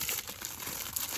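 A clear plastic envelope from an advent calendar crinkles as it is opened, a short, close burst of papery rustling with no talking.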